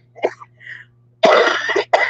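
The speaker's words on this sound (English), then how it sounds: "Speaking of coughs." A person gives a short throat-clearing cough followed by a louder, harsher cough burst and a second quick one, close and dry against a quiet indoor hum.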